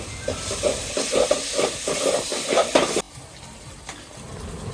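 Spice paste of nuts, onion, green chilli and coriander leaves frying in a pan for biryani, a close hiss and sizzle with rhythmic stirring scrapes that drops to a quieter simmer after a few seconds.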